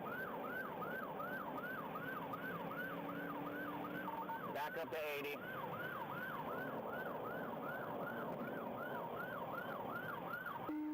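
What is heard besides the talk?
police car siren wailing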